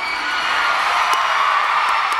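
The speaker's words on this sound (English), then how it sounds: "Yell if you agree." A large crowd at a fan meeting for a celebrity in Manila yells and cheers loudly and continuously, a dense wall of voices with scattered high whoops, steady throughout.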